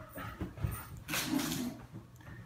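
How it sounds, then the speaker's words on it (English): A dog whimpers and whines indoors with soft breathy sounds and a brief yip, fairly faint against background noise. "I got a little distracted by the dog because the dog's distracted by probably a dog walking by the street"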